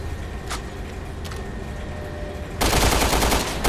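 Rapid automatic gunfire in the video game Resident Evil Revelations 2, a dense loud burst of shots starting abruptly after a few isolated bangs, with no talk over it.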